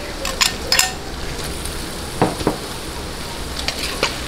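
Squid balls sautéing in a pan with garlic and fish sauce for pancit bihon canton, a steady sizzle broken by several sharp clinks of a utensil against the pan, near and fairly loud.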